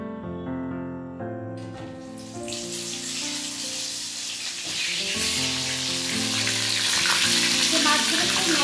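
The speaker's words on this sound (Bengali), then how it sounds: "এটা আরেকবার আমি তেলে ভেজে নেব।" Fish pieces frying a second time in hot oil in a pan, a continuous bright hiss and crackle that swells louder over several seconds, close up, with faint background music.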